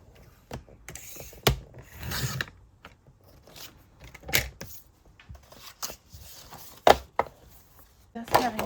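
A 12x12 sheet of paper being cut down to 8.5 inches on a paper trimmer, heard as a few close, scattered slicing swishes and clicks separated by quiet pauses.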